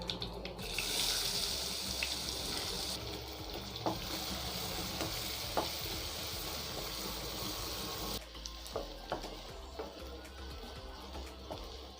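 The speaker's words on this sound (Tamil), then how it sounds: "இப்போ நம்ம குட்டி குட்டியாக கட் பண்ணி வச்ச வெங்காயத்தை இதில் ஆட் பண்ணிடலாம்." Small chopped onions hit hot oil with toasted dal and cumin, a loud steady sizzle with scattered stirring clinks, the frying easing briefly then sizzling on alone.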